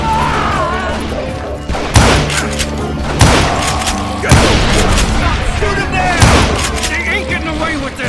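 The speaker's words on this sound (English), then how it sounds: "Bullets were flying every which way as all the old feuds in Kansas caught fire all at once." Gunfire in the western shooter Call of Juarez Gunslinger: several loud booming shots and impacts, about one every one to two seconds, over a steady music and ambience bed.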